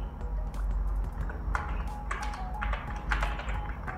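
Fingers type steadily on a computer keyboard while entering text into an Excel spreadsheet, a close, continuous patter of key taps over a low background hum.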